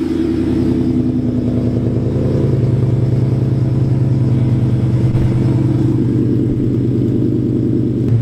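An old, rusty car engine runs steadily after a jumper-cable fix, a loud close idle with a deep, constant rumble and faint rough pulsing that holds for the whole stretch with no voices.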